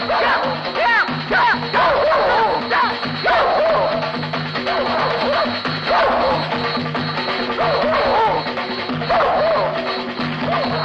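Several dogs bark and yip repeatedly in a comedy film scene, loud and near, while a steady musical background with sustained tones plays underneath.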